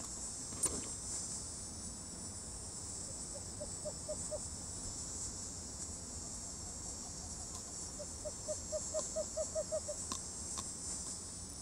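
Crickets chirp in a nighttime wild setting, short rapid pulse trains repeating in bursts over a steady hiss of insect noise, faint and somewhat distant, with no one speaking.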